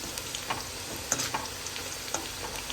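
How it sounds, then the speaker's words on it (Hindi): Bitter gourd fries in a pan alongside minced meat, a steady close sizzle and crackle with faint stirring scrapes and a few light clicks, no talking. "देखिए हमारे करेले अच्छे से फ्राई हो गए हैं।"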